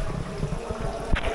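Water inside Sumaguing Cave splashing and trickling as a hand touches it, close and fairly loud, with one sharper splash near the end.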